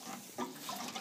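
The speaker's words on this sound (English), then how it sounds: "I'm watering it just as fast, but all the water is going straight down." Water poured from a can or hose onto garden plants, running quickly down through the soil; a soft, steady wash of water, fairly quiet, with no voices.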